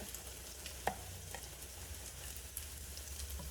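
Salvadoran meat empanadas frying in oil, a faint, steady sizzle with a low hum beneath and a few soft clicks and taps, without talk.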